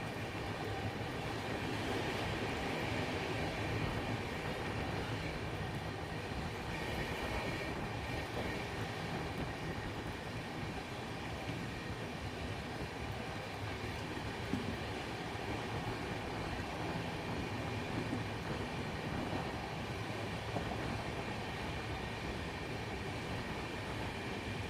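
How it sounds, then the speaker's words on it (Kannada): Rani Chennamma Express heard from on board as it passes Malleshwaram station without stopping, a steady, moderately quiet rumble of rolling wheels and carriage noise that continues unchanged throughout. "ನಮ್ಮ ಟ್ರೈನ್ ಈಗ ಮಲ್ಲೇಶ್ವರ ರೈಲ್ವೆ ಸ್ಟೇಷನ್ನ ಸ್ಕಿಪ್ ಮಾಡ್ತಿದೆ."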